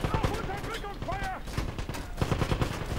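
Gunfire in the video game Wolfenstein, a fast run of sharp shots mixed with game noise and a rising electronic tone, steady and fairly loud across the whole moment.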